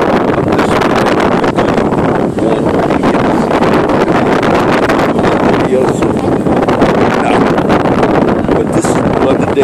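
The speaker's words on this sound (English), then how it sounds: "it's windy." Steady wind buffets the microphone outdoors in a park, a loud continuous roar and rumble throughout with no pauses.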